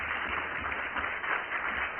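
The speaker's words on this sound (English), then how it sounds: "let's give a round of applause" An audience in Pittsburgh breaks into steady applause to welcome a speaker to the stage, a dense, even wash of clapping that carries on throughout without any voices.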